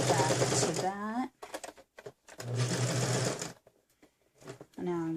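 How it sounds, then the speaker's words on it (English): A serger sewing machine stitches fabric in two loud, steady whirring runs separated by a pause, with a short burst starting again at the end and a voice speaking briefly in between. "Now I'm going to sew right to the edge."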